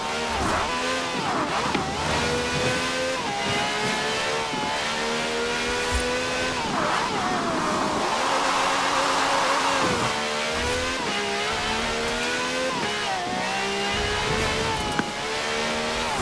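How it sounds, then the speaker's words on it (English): A V12 with over 750 horsepower revs in Forza Horizon 4, its loud engine note rising and falling through repeated climbs and gear changes over a steady backing track. "This has a V12 with over 750 horsepower, plus bucket seats."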